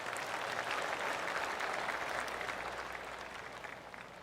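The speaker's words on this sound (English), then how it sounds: "That deserves a golf clap." Crowd applause rises around a golf green in the video game PGA TOUR 2K25, a steady patter of clapping from a moderate distance that slowly fades out.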